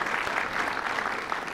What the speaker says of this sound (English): give a round of applause to the sponsors of this year's event